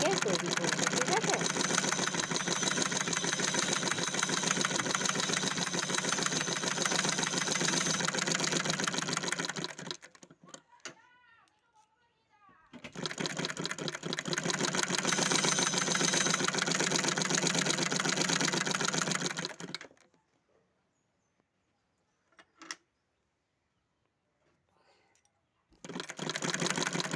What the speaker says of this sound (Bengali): ববিনে সুতো পরিয়ে নিচ্ছি